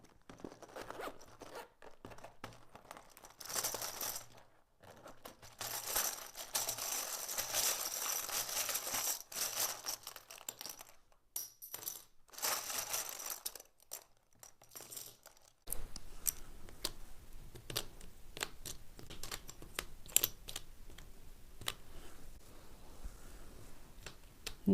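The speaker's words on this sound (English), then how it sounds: "lastly, I will shuffle some letters for you" Tarot letter cards are shuffled by hand in repeated quick riffling bursts with brief pauses, close and fairly quiet, with no talking.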